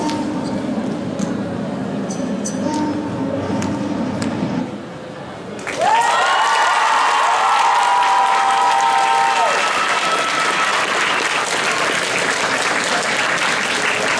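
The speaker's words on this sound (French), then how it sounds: "On applaudit très fort China Nursery Rhyme de Fate" At a cosplay competition, a crowd gives loud, sustained applause. A quieter stretch of clapping with some voices gives way to a fuller, denser roar of clapping, with a brief tonal sound ringing through the middle.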